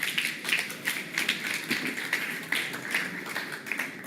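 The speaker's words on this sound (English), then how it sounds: "Please give them a round of applause." A conference audience gives a brief round of applause, a modest patter of separate claps at moderate distance that rises and falls without a break.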